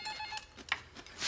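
A home telephone rings during a family dinner scene in a Korean drama, sounding in short electronic trilling bursts with brief gaps, fairly close and moderately loud.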